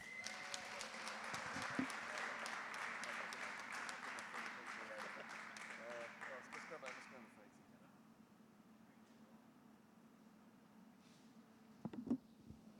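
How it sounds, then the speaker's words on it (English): A conference audience at DevSecCon London 2019 applauds a closing speech, steady and full for about seven seconds before fading into room tone with a few stray sounds. "So please give a massive round of applause to Michael Mann."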